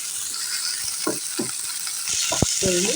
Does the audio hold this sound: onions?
yes